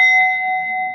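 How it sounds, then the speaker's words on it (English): A single strike of a meditation bell rings out loud and clear, its pure sustained tone holding steady and ringing on without fading away. No voices are heard. "So I'll start it by ringing the bell once"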